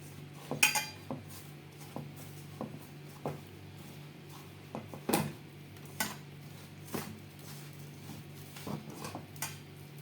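Chicken is mixed by hand with chili powder, ginger garlic paste and salt in a bowl, giving quiet, irregular clinks and scrapes of a utensil against the dish, with no talking.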